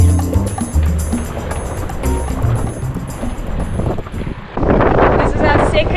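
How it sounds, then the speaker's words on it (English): Strong wind buffets the microphone aboard a cruising sailboat during a Sunday race, a steady roaring rush with water and boat noise that swells louder near the end. "We've got quite a lot of wind going on here."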